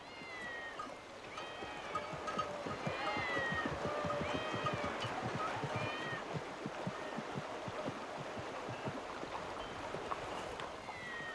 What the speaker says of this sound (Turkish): Bunca kedi burada ne arıyor?